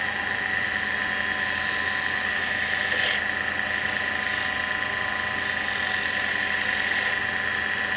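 A woodturning lathe cuts a tenon on a spalted beech box, giving a steady high-pitched whine with scraping tool contact and a brief louder bite, sustained throughout with no talking.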